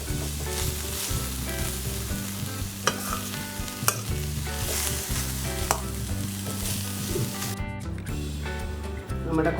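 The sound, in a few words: cauliflower frying in a pan while being stirred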